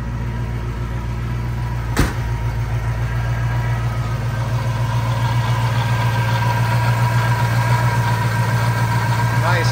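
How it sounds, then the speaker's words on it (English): A 1939 Ford Coupe hot rod engine idles steadily with a deep, even rumble that holds for the whole stretch; a brief sharp knock sounds near the start. "Nice running engine, smoother than silk, tons of power."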